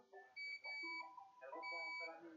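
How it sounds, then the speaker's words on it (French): Several short electronic continuity beeps from a multimeter testing an iPhone 6 motherboard with a short, in quick succession, clear and close, with brief gaps between tones and no other sound. "ça bip, alors que ça devrait pas biper"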